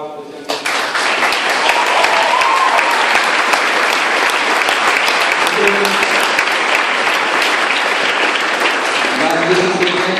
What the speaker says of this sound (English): Maybe we can just get another round of applause for him.